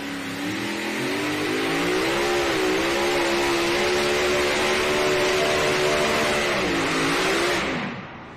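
A loud pulling-tractor engine revs hard and steadily for several seconds during a tractor pull, pitch wavering and dipping near the end before cutting off abruptly, sounding wrong.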